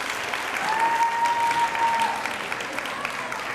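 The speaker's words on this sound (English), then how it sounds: "give them a round of applause and you may be seated" Audience applause for students at an 8th grade awards ceremony, a dense, even clatter of many hands at moderate level, with a faint steady tone running under it for a while.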